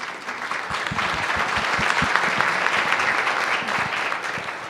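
Audience applause fills a policy panel discussion on equal pay and the minimum wage, a steady wash of many hands clapping at close range that holds for nearly five seconds without speech.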